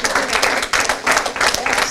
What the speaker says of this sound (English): Round of applause for making us this far.